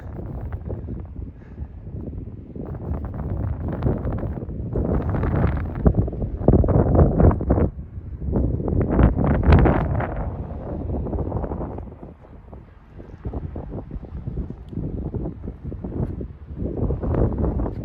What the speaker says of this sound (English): Hopefully the wind's not too bad in the microphone because it is blowing pretty good.